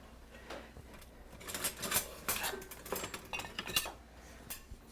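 A serving spoon scrapes and clinks against a serving bowl while food is dished out, giving a quiet, irregular run of metallic taps and scoops at close range with no one talking.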